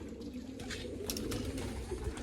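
Pigeons in a loft coo softly and steadily, a low rolling murmur that continues through the whole moment with no voices.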